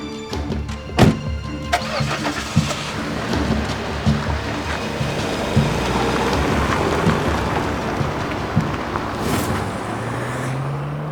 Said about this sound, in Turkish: Bir araba ayrıldı.